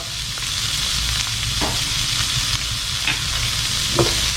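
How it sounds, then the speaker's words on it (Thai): Vegetarian stir-fry of potatoes with curry powder sizzling in a pan, a constant close frying hiss broken by light scrapes and taps of a spatula as the mixture is tossed. "ผัดซ้ำเลยครับ ผัดให้ผงกะหรี่นี้ออกกลิ่นกันนะครับ"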